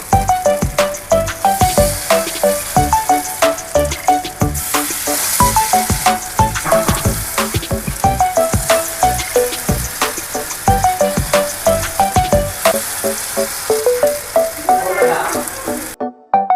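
Jowar (sorghum) appe batter frying in a cast appe pan, a steady sizzle running under loud, melodic background music with a regular beat.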